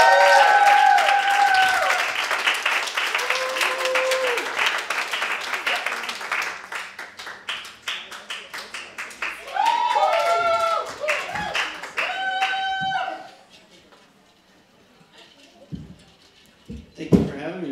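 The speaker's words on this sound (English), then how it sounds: "Let's give a big, big warm round of applause for JT Bullock!" An audience at an HIV/AIDS awareness open mic gives a performer a warm round of applause, clapping and cheering loudly at first, then thinning out into scattered claps, with voices and a mic announcement over it.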